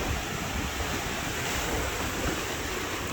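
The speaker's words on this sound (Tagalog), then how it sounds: "Lalaki ng alon mga brothers." Heavy waves on Taal Lake churn and wash continuously with wind noise buffeting the microphone, a dense, roaring surf sound with no voices.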